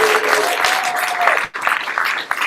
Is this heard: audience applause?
yes